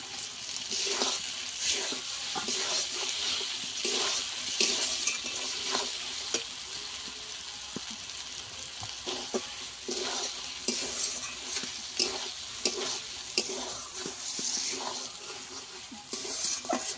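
Fried eggs stirred into hot, sizzling masala for egg curry, with a steady crackling fry under repeated scraping strokes of the spoon throughout, close up.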